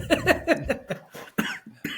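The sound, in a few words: cough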